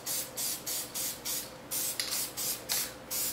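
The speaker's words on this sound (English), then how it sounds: "continue to spray." An aerosol can sprays craft foam in short repeated bursts, about eight hisses in quick rhythm, close and fairly quiet with no one talking.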